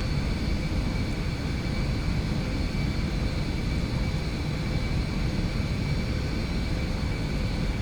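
Steady cockpit engine drone of an aircraft in X-Plane 11 while landing gear and flaps retract after takeoff, a continuous even hum and rumble with no distinct mechanical clunks standing out.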